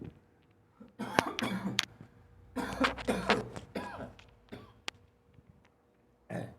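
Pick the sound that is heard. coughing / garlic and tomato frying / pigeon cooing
coughing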